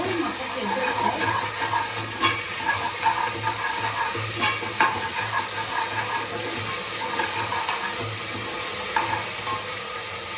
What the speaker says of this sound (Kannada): ಜಿಂಜರ್ ಗಾರ್ಲಿಕ್ ಪೇಸ್ಟ್ ಸ್ವಲ್ಪ ಫ್ರೈ ಆಗಬೇಕು ಚೆನ್ನಾಗಿ, ಆದರೆ ತುಂಬ ಚೆನ್ನಾಗಿರುತ್ತೆ.